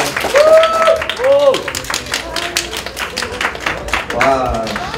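Fans at a stage event for a singer's album promotion clap to welcome her, a lively patter of hands mixed with excited voices calling out.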